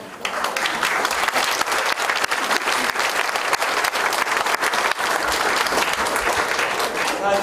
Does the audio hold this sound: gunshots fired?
no